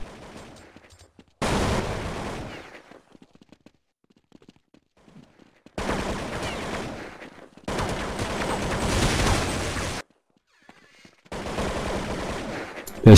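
Counter-Strike gunfire on the de_nuke map during a competitive match, with several loud bursts of rapid automatic shots separated by quiet stretches and faint footsteps.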